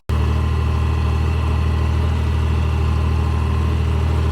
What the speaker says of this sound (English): I think this tractor's smoother than that red tractor.